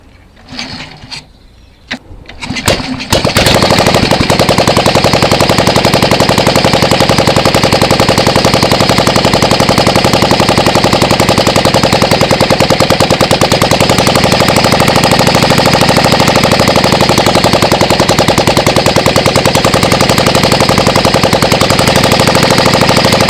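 A rebuilt boat engine on a ten-year-old vessel cranks briefly with a few uneven bursts, then catches and runs at a loud, steady, hard-knocking idle that continues unbroken to the end.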